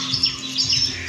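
Small caged birds chirp and tweet at the Depok bird market in Solo, with several high, short calls over a steady low market hum, no voices.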